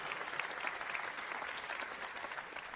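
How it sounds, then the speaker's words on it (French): Steady, dense applause from a large audience at a 2025 award ceremony fills the room continuously, evenly loud throughout with no pauses. "On les applaudit bien fort"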